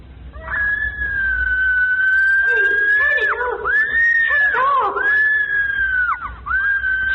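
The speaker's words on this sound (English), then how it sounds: "here's the tape, just where Thomasina screams" A high, sustained scream played back from a tape recording, with long wavering tones that break into several shorter cries and rise and fall loudly across the whole stretch.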